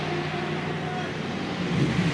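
Race cars at a 24-hour endurance event in Dubai, including the Optima McLaren entering the pit lane, make a steady engine roar with broadband traffic noise that swells slightly near the end.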